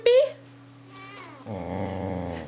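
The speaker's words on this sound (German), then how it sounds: "Wir knurren nicht, wenn die Katzen kommen" A dog growls in low, rumbling bursts at cats, the growling rising and sustaining close by over a short stretch.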